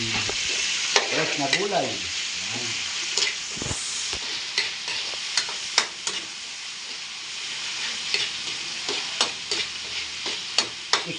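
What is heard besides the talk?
Argentina corned beef stirred and frying in pan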